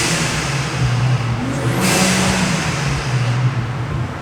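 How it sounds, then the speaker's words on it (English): A car engine drones steadily at close range and revs slightly higher midway, a continuous loud mechanical roar with no talking. "As much as I love the sound of his car"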